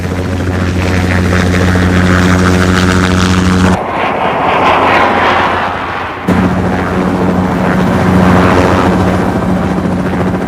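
A Bell 206 JetRanger helicopter flies close and loud, its rotor and turbine making a steady droning roar with a pulsing low thump, which briefly changes to a rougher, airier rush before the drone returns.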